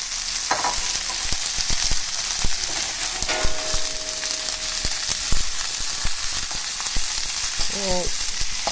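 Chop suey ingredients frying in butter in a pan with imitation crab meat: a loud continuous sizzle broken by utensil clacks and scrapes, with a couple of brief squeaky clatters near the end.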